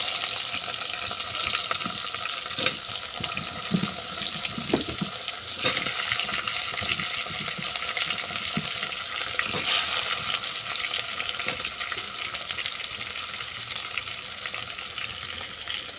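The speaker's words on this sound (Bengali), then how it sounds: "এবার সব সবজিগুলোকে আমি এতে তুলে দেবো।" Mixed vegetables fry and are stirred in hot oil in a pan with bay leaf, dried chilli and five-spice, making a loud, continuous sizzle broken by occasional scraping and clattering stirs.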